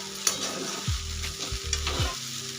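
Poha sizzles softly in oil with turmeric over medium heat. Several scraping strokes of a spatula stir it against the pan, heard close over a steady low frying hiss.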